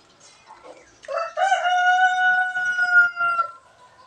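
A rooster crows once, loud and near, in a chicken coop, its long drawn-out call rising and then trailing off, with faint clucking before it.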